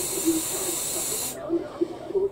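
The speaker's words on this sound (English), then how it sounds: "What I'm doing is I'm spraying the coax to try to keep the coax cool" A steady spray hisses onto coax cable held near a soldering job on a PL259 connector, keeping it cool; the hiss runs loud and continuous then cuts off abruptly, followed by quieter faint ticks and a soft voice.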